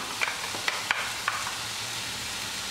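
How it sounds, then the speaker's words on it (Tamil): A ground onion, almond, tomato sauce and soy sauce mixture fries in a pan for chilli parotta, giving a constant close sizzle with a few light clicks of a stirring spoon against the pan. "நல்லா வதங்குற வரைக்கும் கிண்டி விட்டுருங்க"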